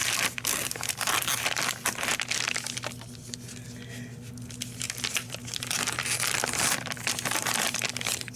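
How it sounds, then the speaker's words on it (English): A knife cuts through a ham on the bone in a kitchen, giving close, continuous crinkly scraping and tearing sounds with short crackles, alone without speech. "But I'm going to go on and cut this ham."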